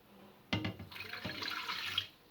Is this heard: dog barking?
no